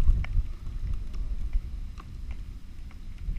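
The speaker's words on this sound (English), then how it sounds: "This wind, guys, is treacherous." Strong wind buffets a jon boat out on the water in snowy weather, a constant rough low roar with gusty swells and occasional small knocks, close up with no talking.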